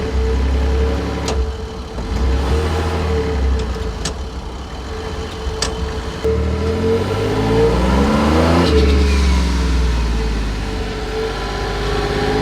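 A car with a manualized F4A51 automatic gearbox pulls away in first gear, engine revving up in repeated climbing surges with brief dips between them, close and steady with no talk.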